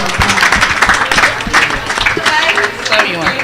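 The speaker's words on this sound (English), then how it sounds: "Please a round of applause for" A short burst of audience applause at a business and entrepreneurship tour event in Taraba State, with irregular clapping and crowd noise mixed with voices.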